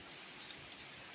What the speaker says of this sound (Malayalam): മഴ വന്നുകൊണ്ടിരിക്കുന്നു, മഴ പെയ്യുന്നു, മഴ തന്നെ മഴ.